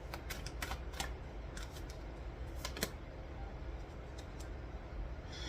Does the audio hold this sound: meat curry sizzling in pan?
no